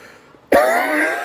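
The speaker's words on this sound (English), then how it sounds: "just an annoying cough" A single harsh cough from one man, sudden and close, its rough throaty burst trailing off into a fading rasp.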